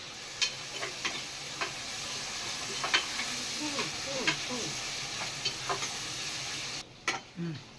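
Onions frying in a pan for a homemade vegetable biryani, a soft steady sizzle with scattered light clicks and stirring taps.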